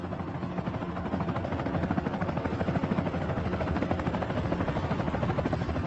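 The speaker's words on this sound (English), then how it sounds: "The small helicopter can barely lift her" A small helicopter lifts off on a rescue mission in an African lion setting, carrying a lioness as cargo. Its rotor gives a loud, steady, rhythmic thrum that runs close and unbroken throughout, with no talking.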